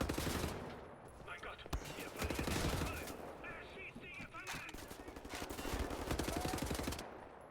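Dense automatic gunfire in Wolfenstein: The New Order, with rapid bursts and individual cracks layered over explosions and game noise, and someone talking intermittently underneath.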